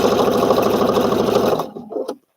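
A sewing machine stitches fabric with cream thread, running in a steady, loud mechanical whir for about one and a half seconds before stopping with a few short clunks.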